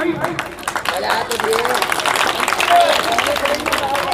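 Scattered applause and clapping ripple through the audience at a Ganesh Chaturthi program, moderately loud, with voices talking over the claps.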